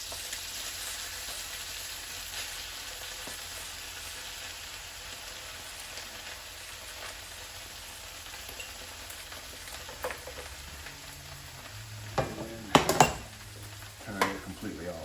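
Fried rice hisses and sizzles steadily in a hot pan on the stove, with a few sharp clanks and scrapes of a utensil stirring it near the end.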